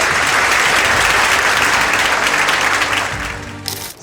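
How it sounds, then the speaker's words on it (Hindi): Loud, sustained applause from a large audience, a thick continuous roar of clapping that holds steady and then trails off into a few stray claps at the end. "तालियां बजती रहनी चाहिए।"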